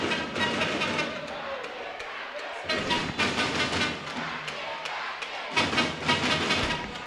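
Football crowd of Dourados fans at a state championship quarter-final match, a broad roar of chanting and cheering that swells in waves, with a commentator talking over it.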